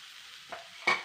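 Stirring in a pan of vegetarian cabbage fry with grated coconut, steady soft background hiss broken by two short scraping stirs, the second louder and close.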